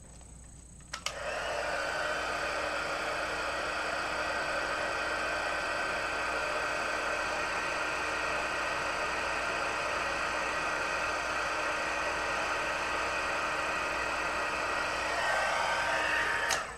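A heat tool blows hot air over embossing powder on a handmade card, switching on with a click and holding one steady, loud whirring hiss for about fifteen seconds before cutting off.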